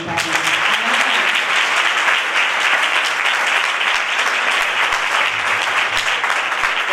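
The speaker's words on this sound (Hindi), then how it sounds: "तो आइए खुदावन के कलाम के लिए जोरदार तालियां।" Loud, dense applause from an audience at an evangelist's religious gathering, a steady sustained roar of many hands clapping close by for several seconds without a break.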